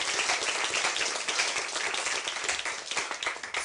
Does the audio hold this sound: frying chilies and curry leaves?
no